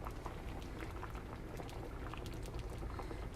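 Fish tea soup with vegetables simmering in a pot, a steady low bubbling and gurgling that runs continuously and fairly close, with no voices over it.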